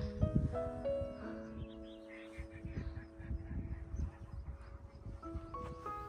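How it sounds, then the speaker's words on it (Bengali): Birds call outside a quiet hotel in Iceland in the morning, sounding as repeated honking, goose-like cries of varying pitch that come in bursts over soft background noise, with no voices. "একদম রাত থেকে এই পাখিগুলো না কিচকিচ কিচকিচ করে ডাকছিল, এখনো ডেকে যাচ্ছে।"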